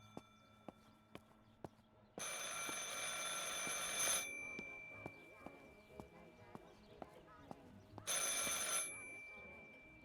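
An old telephone rings in two bursts in a quiet room in the video game Martha Is Dead, a loud bright bell trill of about two seconds, then a pause with soft ticking, then another shorter ring.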